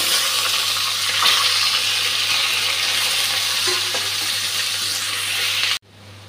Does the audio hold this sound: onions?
yes